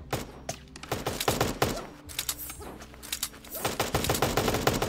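Rapid gunfire in the Super Animal Royale video game, quick clustered bursts of sharp cracks and dart-gun shots in uneven volleys, close and continuous throughout.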